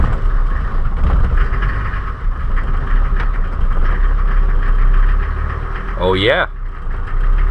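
A 1983 military Geländewagen diesel engine idles roughly and steadily after a cold start, its low rumble continuous throughout, with a person speaking briefly over it near the end.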